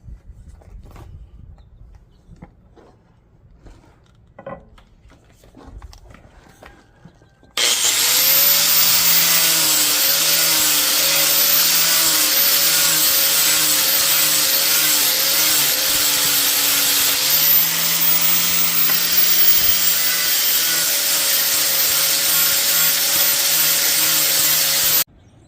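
A power sander shapes a wooden axe handle, starting after several seconds of faint knocks and handling noises, then running as a loud continuous whine and grinding rasp for about seventeen seconds before cutting off abruptly.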